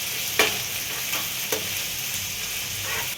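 Green chillies and onion sizzle in a hot pan, a constant loud frying hiss with a few sharper bursts as they are stirred.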